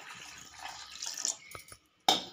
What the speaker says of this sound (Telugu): ఇలా చుంచి ఇందులో వాటర్ అయితే వేస్తున్నాను.